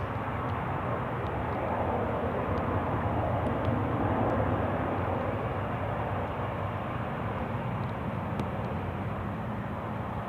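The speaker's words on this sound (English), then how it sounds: "now when they go full throttle, the spoilers are retracted again" Swiss Airbus A350 engines at full throttle during a go-around at Zurich Airport, a broad, continuous distant roar that holds steady without a break.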